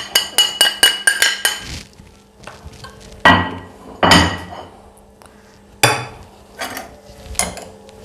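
A spoon clinks sharply against a bowl in a quick burst of taps, then scrapes and knocks intermittently while mixing spices such as salt, coriander powder, food colour and chaat masala into a paste, close and clear with no talking.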